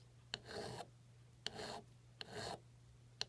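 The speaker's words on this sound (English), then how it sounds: "So you're going to want to file that with the bevel first." A fine file rasps across the burr on a spinning top's metal tip with a bevel-first stroke, three distinct rasping strokes each about a third of a second long with small clicks between them, close and fairly quiet.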